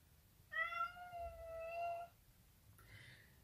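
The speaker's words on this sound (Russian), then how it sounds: "Кошка кричит." A cat yowls indoors in one long, drawn-out, wavering cry lasting well over a second, followed by a shorter, fainter call, set against a quiet room with a low background hum.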